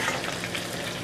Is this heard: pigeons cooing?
no